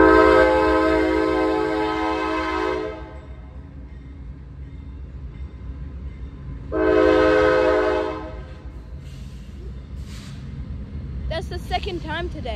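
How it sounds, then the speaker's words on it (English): A CSX freight train passing near houses sounds two long, loud horn blasts, with a steady rail rumble between them and a brief warbling tone at the end. "CSX right there, CSX. It's gonna be a blasting horn."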